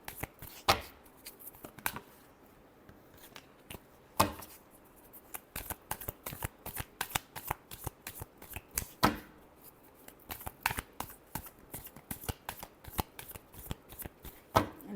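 Tarot cards are shuffled by hand, with close, crisp riffles and slaps, sharper snaps at irregular moments and a faint rustle in between, and no talking.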